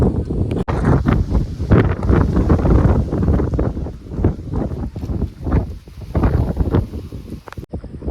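Strong wind buffets the microphone in loud, rumbling gusts that swell and ease repeatedly, with a couple of sharp knocks in between.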